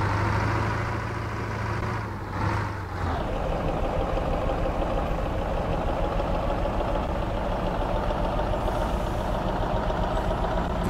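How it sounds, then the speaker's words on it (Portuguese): Engine of a MAZ 504B truck in Euro Truck Simulator 2, a steady low idling rumble with a knocking diesel texture, loud and continuous after a brief shift in tone near the start. "Olha o som do motor."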